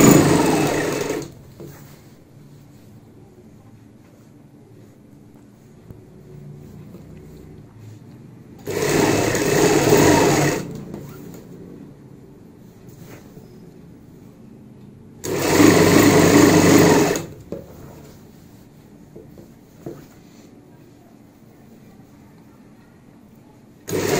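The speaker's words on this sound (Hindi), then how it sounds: "हमने यहाँ पे एक साइड से सिलाई कंप्लीट कर ली है" An electric sewing machine stitches a box pleat palazzo pant in two loud, steady bursts of about two seconds each, separated by long quiet pauses.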